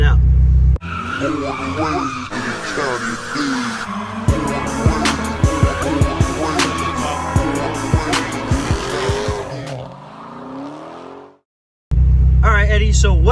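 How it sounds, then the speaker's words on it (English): A fully built Subaru STI runs on a dyno during a clutch break-in, its engine loud and close as it revs up and down in repeated pulls before cutting out briefly, with voices over it. "basically what we're doing today is we're going to go ahead and dyno his car"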